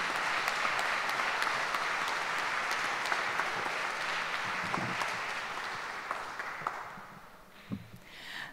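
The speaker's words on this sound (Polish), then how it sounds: "Wielkie, wielkie brawa." A concert audience in a parish church applauds steadily after a performance of Polish songs, a broad even roar of clapping that thins toward the end with a few louder claps.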